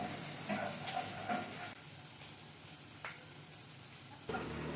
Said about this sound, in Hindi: मैंने कढ़ाई में तेल लिया है एंड उसमें मैंने ऐड किया है finally chop green chilli, ginger and garlic